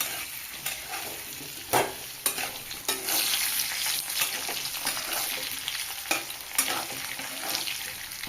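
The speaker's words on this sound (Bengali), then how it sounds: "আলু ভেজে নেব।" Potatoes fry in hot oil for a chana dal and egg curry, a continuous crackling sizzle broken by repeated scraping stirs and sharp clatters of the spatula against the pan.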